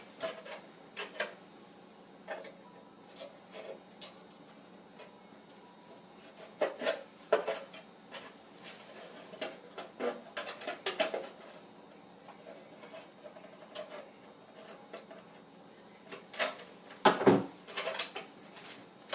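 Rough trimming of a plastic kids' TK helmet, with scattered close clicks, snips and scraping clatters arriving in irregular bursts between quiet pauses and a louder clack near the end; no talking.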